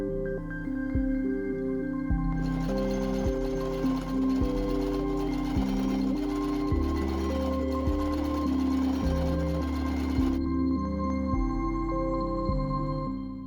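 A sewing machine stitches a tiered skirt close by, running steadily at home in long even bursts with short pauses and speed changes, all under soft background music with no talking.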